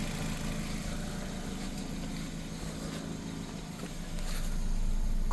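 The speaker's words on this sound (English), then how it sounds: "Engine's idling okay." A 2006 Nissan Sentra, during coolant bleeding after a water pump replacement, idles with a steady low hum at moderate level, rising slightly louder near the end, with no talking.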